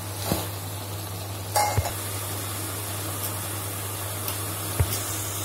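Boiled peas stirred into sizzling oil for curry leaf rice: a steady frying hiss under a low hum, broken by a few scraping stirs and clinks of a spoon against the pan.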